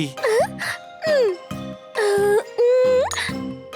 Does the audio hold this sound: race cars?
no